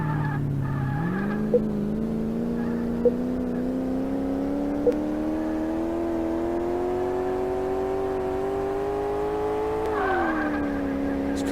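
A racing car engine in Car Mechanic Simulator 2018 drones steadily and climbs in pitch as it revs toward its red line, briefly dropping with gear shifts, loud and continuous.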